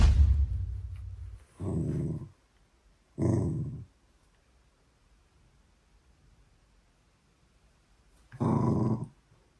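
Small dog producing low growls and grumbles in several short bursts separated by quiet pauses, close to the microphone and heard alone.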